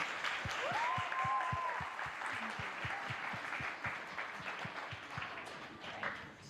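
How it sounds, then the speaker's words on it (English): An audience at a cultural-sharing student presentation event in Happy Valley-Goose Bay applauds, a dense, sustained round of clapping that slowly thins out, with faint voices and rhythmic low thuds beneath. "Can we have another round of applause?"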